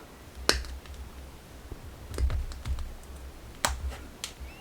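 Plastic shoulder pad on a Deathwatch Terminator miniature snipped from its sprue, giving three or four sharp, separate clicks and snaps at close range over a quiet background.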